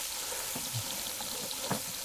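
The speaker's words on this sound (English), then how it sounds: "You can hear that good sizzle in there." Chicken and sausage sizzle steadily in a hot pan, a constant crackling hiss with a few soft clicks and pops, close and fairly quiet.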